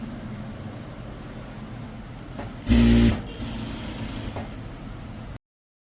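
A sewing machine stitches the neck of a chudithar in one short loud burst of about half a second, set against a steady background hiss, with no talking.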